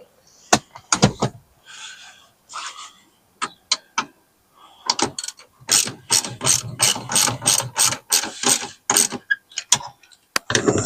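Hand ratchet tightening bolts, bursts of quick metallic pawl clicks as the handle swings back and forth, sparse at first, then long rapid runs of ratcheting, close and crisp.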